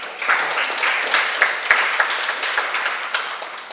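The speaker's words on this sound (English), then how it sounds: "A round of applause to her." Audience applause in a house gathering honoring a late man's wife, steady clapping from a small crowd lasting nearly four seconds, moderately loud and close.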